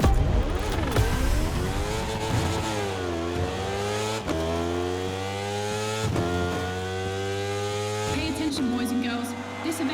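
A motorcycle in The Crew Motorfest video game revs hard through repeated rising engine sweeps, each climbing in pitch and dropping at the gear change, loud and close, with someone talking over it.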